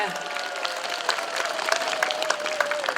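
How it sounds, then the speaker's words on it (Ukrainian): Audience applause at a Ukrainian Trinity (Green Holidays) celebration, steady crowd clapping that fills the moment, with a voice speaking over it. "Оплески пані Розалії."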